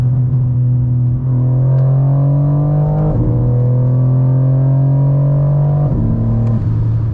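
A BMW M340i's deep, loud exhaust in loud mode drones steadily close by, its pitch stepping up and down as the engine revs, with no talk over it.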